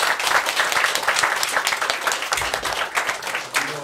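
Audience at a children's concert on a rug applauds a guest musician joining the band, with dense, steady clapping that stays loud and close throughout, sharper claps standing out near the end.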